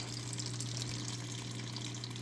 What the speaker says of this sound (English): Just put water in it, a little bit of ice.